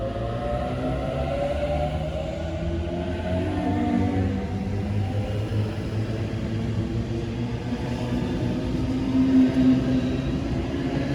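A train passes through Bardwell Park station, a steady heavy rumble with rising and falling wheel and motor tones, close and loud throughout with no voices.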